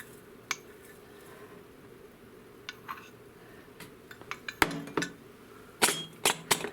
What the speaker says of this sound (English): Give it one last mix before we all add it to our canning jar.